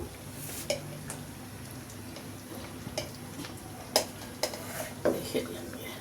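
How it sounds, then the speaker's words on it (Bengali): Dal makhani bubbling in a pot over a low flame, with a low simmering bed and scattered spoon taps and scrapes against the pot, mostly in the latter half, moderately close and fairly quiet. "একটু বারবার নাড়তে হবে, যেহেতু ডাল নিচে না ধরে যায়।"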